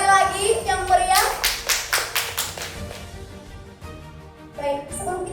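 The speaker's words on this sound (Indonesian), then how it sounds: "Berikan aplaus sekali lagi yang meriah" An audience at an evening talk event with young candidates breaks into a short burst of applause, a cluster of quick, fairly close claps that fades out after a couple of seconds, with a voice speaking before and after.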